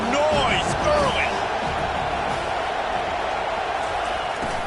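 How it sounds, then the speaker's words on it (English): Dense roar of a college football stadium crowd, a continuous wash of cheering and noise filling the whole stretch, with a commentator's voice cutting through near the start. "This crowd bringing the energy and noise early."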